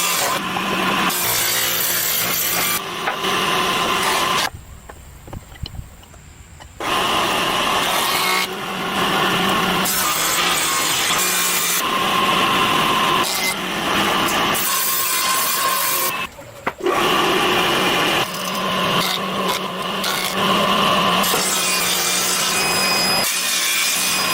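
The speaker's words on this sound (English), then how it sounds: "A circular saw cuts the stock." A circular saw rasps steadily through wooden stock for a long stretch, loud and continuous, with a couple of brief pauses between cuts.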